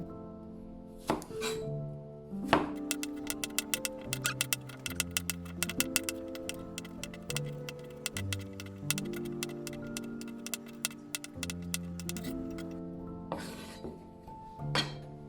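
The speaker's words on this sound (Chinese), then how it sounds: "再把绿皮部分切成筷子粗细" A knife chops cucumber skin into chopstick-thick strips on a board, a fast run of crisp, evenly spaced cuts up close with a few heavier knocks at the start and end.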